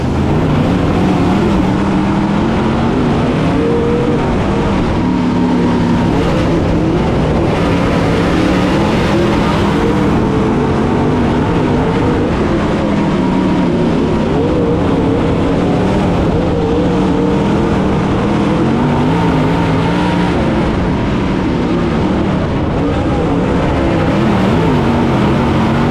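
Dirt late model race cars roar around a speedway oval in a steady, loud, continuous engine drone, with pitch rising and falling as the pack passes, and no voices.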